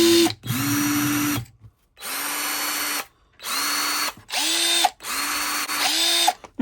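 A Parkside cordless drill in drill mode whirs in five loud bursts, each spinning up, holding a steady whine, then stopping with short silent gaps between.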